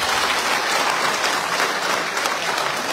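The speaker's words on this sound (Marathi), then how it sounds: "पुन्हा अशाच एकदा जोरात टाळ्या वाजवा" A crowd at a felicitation during a state-level community convention breaks into loud, continuous applause, an even wall of many hands clapping throughout.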